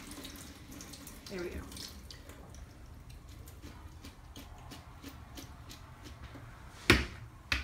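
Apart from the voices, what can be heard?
tap water running while rinsing Brussels sprouts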